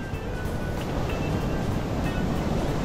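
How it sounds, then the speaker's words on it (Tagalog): Strong ocean waves crash and surge at Patar Beach in Bolinao, Pangasinan. A loud, continuous roar of surf blends with wind buffeting the microphone throughout. "Lakas ng alon, no?"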